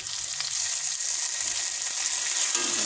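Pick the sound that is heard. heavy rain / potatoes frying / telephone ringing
potatoes frying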